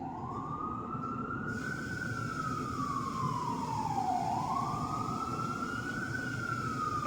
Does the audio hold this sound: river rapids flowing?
no